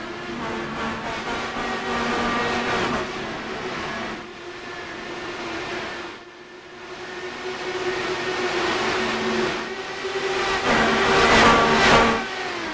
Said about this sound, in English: Cars build up speed and thunder their way down into turn 3 and 4.